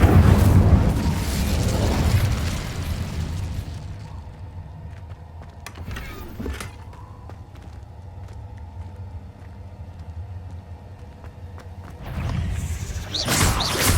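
The Incendio fire spell in Hogwarts Legacy goes off in a loud fiery whoosh, dies to a low ambient hum with scattered crackles, then swells again near the end.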